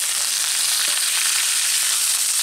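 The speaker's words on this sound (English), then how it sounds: "What I'm doing here is searing the edges of the steak." Thick steak edges searing in a hot pan, the meat propped against the side: a loud, dense, continuous sizzle and crackle, close and unbroken.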